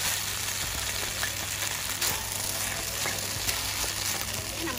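Mee hoon rice noodles being stir-fried with fried egg in a hot pan, giving a steady close sizzle with scraping and tossing sounds from the spatula, continuous throughout with no talk.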